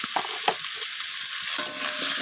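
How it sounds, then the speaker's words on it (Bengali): Spices, ginger paste, potato and papaya frying in a pan while being stirred, a steady close sizzle with several distinct scraping strokes of the spatula, no talking. "সমস্ত কিছু মশলা একসাথে আলু পেঁপের সাথে মিশিয়ে নিয়ে এইভাবে নাড়িয়ে ছাড়িয়ে একটু ভাজা ভাজা করে নিচ্ছি"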